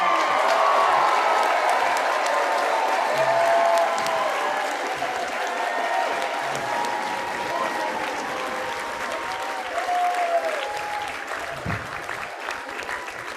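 Banquet audience at a National Federation of the Blind convention applauds in a sustained burst of many hands clapping with a few cheers, slowly easing off over about thirteen seconds.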